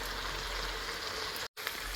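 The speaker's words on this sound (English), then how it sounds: "So I'm frying for about a minute, then we add in our rice." Constant crackling hiss of food frying in a pan before rice is added for chicken and cashew fried rice, dense and even, with a momentary cutout near the end.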